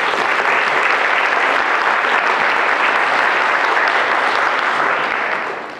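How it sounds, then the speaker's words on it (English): Sustained, steady applause from a panel honoring youth candidates at a candidate night, loud and dense throughout and tapering off at the very end. "I think it is our turn as the panel to applaud your courage and your commitment to us."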